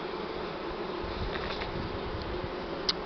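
Honeybees from a swarm hum steadily close by, a dense continuous buzz with a few individual bees flying past near the microphone, no voices.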